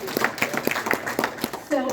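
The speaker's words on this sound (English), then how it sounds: "So congratulate, you need to clap for yourself." A small audience claps for themselves at a local history talk, a handful of scattered, fairly regular hand claps over a couple of seconds, with voices mixed in.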